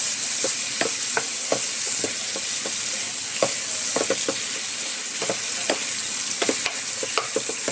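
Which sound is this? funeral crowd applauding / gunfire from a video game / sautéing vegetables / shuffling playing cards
sautéing vegetables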